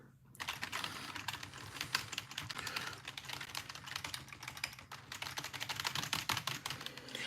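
Keys on a computer keyboard are pressed in a steady, busy patter of quick clicks and taps, close and continuous, with a low background hum underneath and no voices.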